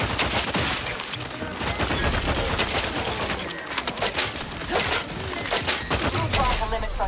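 Sustained gunfire in The Outer Worlds 2, dense rattling bursts and booms through a firefight, with game voices and combat chatter mixed underneath.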